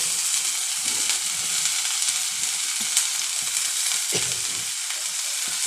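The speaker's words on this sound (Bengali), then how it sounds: "দেখুন, আমি উস্তেগুলো এবার দিয়ে দেবো এর মধ্যে, উস্তে আর আলু।" Bitter gourd and potato pieces stir-frying in hot oil in a pan, a loud, steady broadband sizzle with occasional scraping stirs close by and no talking.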